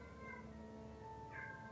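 Cat meowing in the video game Lost in Random: a soft, drawn-out tonal mew is followed by a second, rising meow near the end, faint and alone.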